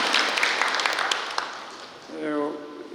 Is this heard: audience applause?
yes